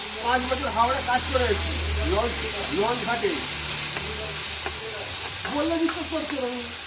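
Gobindobhog rice sizzles in a hot pan alongside washed, fried dal while being stirred, a steady frying hiss running beneath a voice talking throughout.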